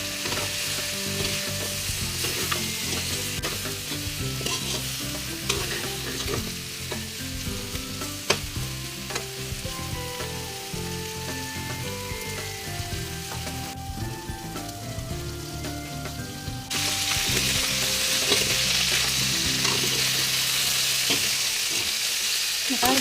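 Chicken feet for adobo fry and stick in a hot pan, a steady, close sizzle running throughout over low musical tones, growing louder and brighter toward the end.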